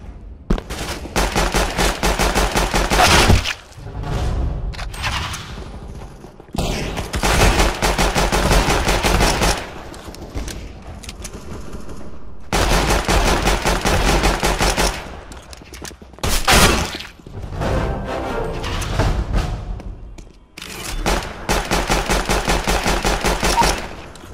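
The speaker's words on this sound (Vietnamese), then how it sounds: "tiếng súng cũng như tiếng bước chân là cực kỳ rõ ràng và tạo tiếng 3D này" Rapid automatic gunfire from a first-person shooter game plays loudly through Logitech G560 PC speakers in several long bursts with short pauses between them and no talking.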